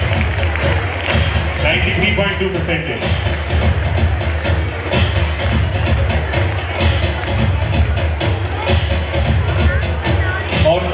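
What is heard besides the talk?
applause at award ceremony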